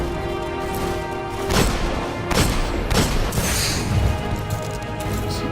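Repeated hand cannon shots ring out in Destiny, a solo level 20 mission: several sharp, loud reports at irregular intervals over a steady roar of game ambience and music, with no talking.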